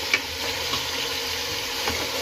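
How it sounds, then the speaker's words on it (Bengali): Chicken with potatoes, tomatoes and green chillies being stirred in a pan, giving a steady low sizzle with a few soft scrapes of the spoon, fairly quiet and without talk. "এগুলো একটু ভালোভাবে আরও 2-1 মিনিট নাড়াচাড়া করে দেবো।"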